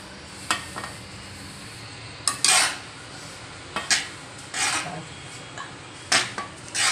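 Puffed amaranth is stirred into melted jaggery in a pot for rajgira laddu, giving intermittent scraping and clinking strokes of a spoon against the pan, separated by quiet gaps, close by.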